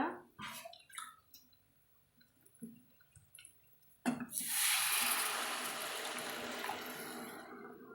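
Water poured into a Kerala-style mango curry in a pan: after a few light clinks and taps, a loud steady pouring rush begins midway and continues to the end.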